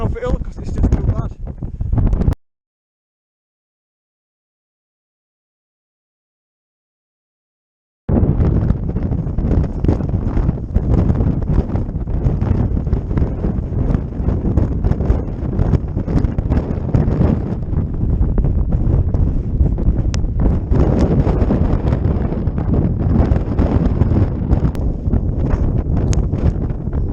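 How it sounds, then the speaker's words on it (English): Strong wind blows across a hillside outside a tent, roaring and buffeting close to the microphone in continuous gusts, with a few seconds of dead silence near the start. "Sorry if you can't see much, it's very windy."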